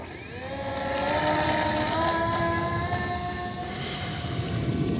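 An E-Flite Ultrix 600mm RC plane takes off from a runway. Its electric motor whine holds steady and loud, and the pitch climbs and shifts as it speeds away over a broad rushing noise.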